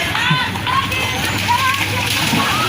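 Children splashing and swimming in floodwater: sloshing and splattering water close by, with excited children shouting and talking over it throughout.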